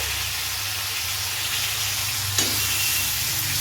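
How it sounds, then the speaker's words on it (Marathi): Onion and tomato puree sautéing in oil with onion-garlic masala and turmeric for rajma, giving a steady close sizzle and hiss throughout, with a brief stir or clatter partway through and no talking. "व्यवस्थित परतून घ्यायचं आहे तेलामध्ये"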